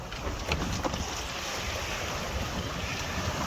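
A sailboat runs under headsail through lingering sea swell near the Eddystone Rocks off Plymouth, with a steady rush of water and wind buffeting close to the microphone and no voices.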